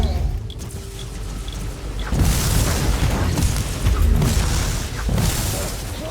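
Loud booming blast from the Warhammer 40,000 game Inquisitor Martyr, a heavy low rumble that swells about two seconds in and rolls on through the rest, with a fainter voice briefly under the noise.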